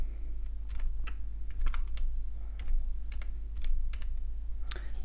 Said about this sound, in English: Next, you type in your password.